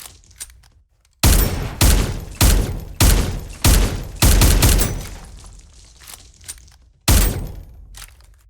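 Gunfire from the video game Vampire Hunters 3: loud, close bursts of rapid shots, about six distinct volleys separated by brief pauses, with a final burst near the end and no talking.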